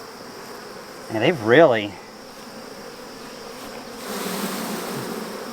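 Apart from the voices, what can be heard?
honey bees buzzing around a hive frame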